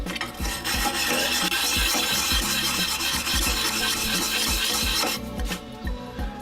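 A file rasps across the small serrated edges of a knife blade in repeated short strokes, close and fairly loud, with no voices.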